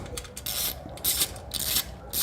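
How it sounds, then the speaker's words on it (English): A 5mm Allen key tightens the exhaust heat shield of a Predator Pro slip-on on a Triumph Bonneville T100/T120, giving close, short repeated ratcheting and scraping strokes in a quick rhythm. "5mm Allen, tighten the heat shield back up"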